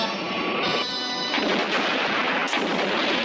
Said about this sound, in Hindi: बम के जगह लैंडमाइन फोड़ा जा रहा है